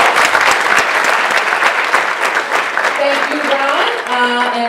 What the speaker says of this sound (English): Give Ronald a round of applause.